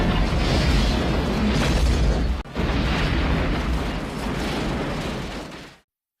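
Two colliding war machines explode in a film battle, producing a loud, sustained rumbling roar that cuts off abruptly midway, resumes, and then fades to silence.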